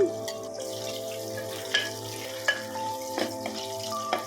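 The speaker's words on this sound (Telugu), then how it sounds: "ఇప్పుడు ఉల్లిగడ్డ వేసేసిన ఆయిల్ వేడైపోయింది" Chopped onions frying in hot oil, a steady sizzle running throughout with a low hum underneath and a few sharp scrapes and clinks of a spoon stirring the pan.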